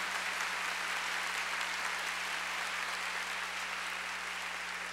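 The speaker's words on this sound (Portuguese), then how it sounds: "aplaudindo a palavra" A church congregation applauds after a Bible reading, a uniform, continuous wash of clapping from a large room, steady and moderately loud with a faint low hum underneath.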